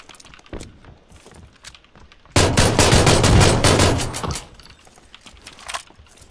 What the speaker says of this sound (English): I got them both with a pistol.